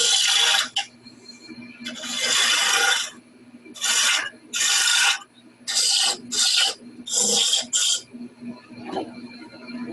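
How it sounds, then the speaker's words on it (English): A spindle gouge and roughing gouge shaping a spinning wood blank into an acorn shape on a lathe, heard as repeated bursts of rasping, scraping cuts separated by brief pauses over a faint steady motor hum. "And I'm just using a spindle gouge"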